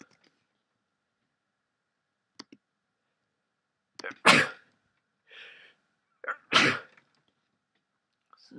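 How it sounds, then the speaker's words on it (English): Two sharp, close sneezes break a near-silent stretch, with a few soft breaths and small clicks around them. "Sneezing."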